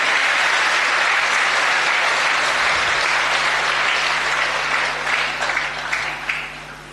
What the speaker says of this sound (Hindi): एक बार जोरदार तालियां इस व्यक्ति के लिए होनी चाहिए।